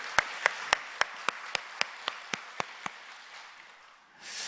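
A church congregation claps together during a service, a dozen sharp, evenly spaced claps in unison that gradually soften and fade, followed by a brief swell of diffuse room noise.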